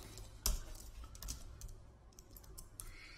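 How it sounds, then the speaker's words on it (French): Quiet keystrokes on an iMac keyboard, a sparse handful of soft clicks with one sharper tap near the start, heard close in a quiet room. "j'ai dû reprendre pour la petite histoire mon clavier iMac parce que le clavier mécanique pour faire des vidéos, c'est pas génial"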